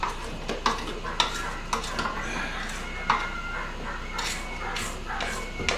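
A spatula scrapes the sides of a bowl of cake batter, giving soft repeated scraping strokes with occasional sharper knocks against the bowl, moderately close over a low background hum.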